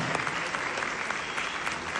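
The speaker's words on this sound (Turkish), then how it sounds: "Çok büyük alkışlar, çok büyük alkışlar." An audience at an award ceremony applauds steadily, a dense and even wash of many hands clapping at once for the full two seconds, with no talking over it.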